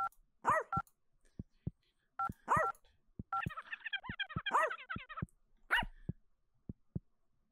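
A dog barks in short repeated bursts inside a video game, the barks near and clear, mixed with phone keypad beeps and a rapid frog-like croaking passage.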